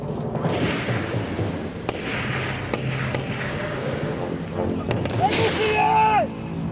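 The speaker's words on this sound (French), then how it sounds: "Ça tire!" Gunfire rings out during a French Foreign Legion combat exercise, with sharp scattered shots punctuating a dense, noisy field background while people talk and shout throughout.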